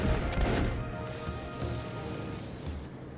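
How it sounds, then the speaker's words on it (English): Gunfire sound effect in Civilization VII, a quick scattered volley of distant-sounding shots and cracks at moderate level, fading into a lower rumble over a few seconds. "The swift sound of gunfire in the air."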